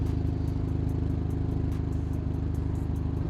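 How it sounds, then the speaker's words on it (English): Deep, steady idle from the fat exhaust pipes of a 2025 Hyundai Elantra N with a DCT, heard up close as a continuous throbbing low rumble with a fine rapid pulse, alone without talk. "check out these really fat exhaust pipes, and you can hear the idle. The idle sounds amazing."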